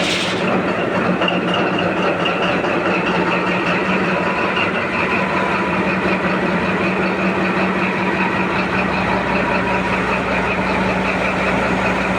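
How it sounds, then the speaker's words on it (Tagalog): A freshly overhauled Caterpillar 3512 diesel engine runs steadily after its first start, loud and close, with a dense rough clatter and a constant low drone. "So medyo may ingay-ingay pa ang unang andar nito"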